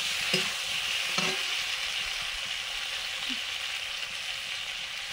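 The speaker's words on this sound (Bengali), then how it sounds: "সবজি দিয়ে দিলাম, আলু পটল ঝিঙে" Potato, pointed gourd and ridge gourd frying and being stirred in a pan, a steady, fairly loud sizzle throughout, with a couple of light clinks of a spatula near the start and no talk.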